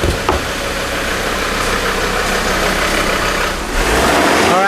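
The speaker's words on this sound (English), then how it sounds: "The rev's gone up." Ford Ranger diesel engine idling loudly up close during a DPF regeneration, a steady rough rumble that swells as the revs rise near the end.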